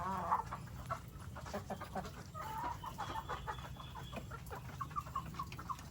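Native Philippine darag chickens cluck softly and repeatedly nearby, a scattered run of short clucks over a faint background hum.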